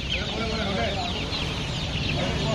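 Crowded farm chickens at a wholesale poultry market cluck and chirp continuously in a dense, loud chorus, with faint voices mixed in.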